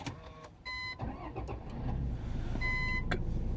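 A Renault car beeps twice with clear electronic tones as it starts up, with a door or key clatter at first and a low steady engine hum rising beneath the second beep.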